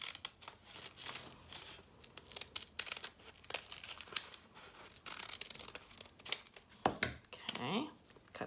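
Scissors cut paper into block letters during a fifth-grade classroom lesson, making repeated close snips and rustling crinkles while a person talks throughout.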